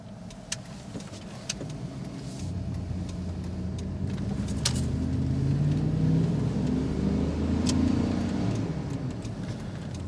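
Car driving through city streets at night and accelerating into a U-turn, its engine hum rising steadily under road noise, with a few sharp clicks and taps inside the cabin.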